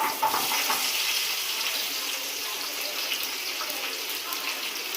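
Onions frying in a pan for chicken biryani, giving a steady bright hiss and fine crackle that holds at an even level throughout, close up and with no talk.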